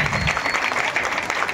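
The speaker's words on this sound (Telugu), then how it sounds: "సరే గట్టిగా చప్పట్లు కొడదాం అందరం కూడా గట్టిగా" A crowd of supporters at a political gathering bursts into loud, sustained applause, dense clapping filling the whole moment with a few voices mixed in.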